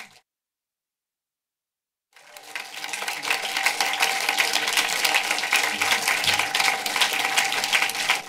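Applause erupts after about two seconds of silence and carries on steadily to the end, dense and moderately loud, at a German talk and film screening of Die weiße Hölle vom Piz Palü with director Dietrich Brüggemann.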